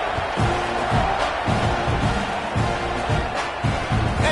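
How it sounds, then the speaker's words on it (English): A football stadium crowd buzzes loudly and steadily after a score, with a dense roar of voices and rhythmic thumping pulses running under it throughout. "this crowd is buzzing after that last score"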